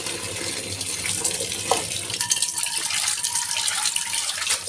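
Tap water runs over strawberries in a colander in a kitchen sink, a continuous splashing gush with shifting patter as the fruit is rinsed, and no one speaking.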